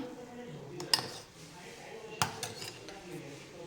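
A metal spoon set into a pot of boiling butter being cooked down for ghee, giving two or three sharp clinks against the vessel over a low bubbling background.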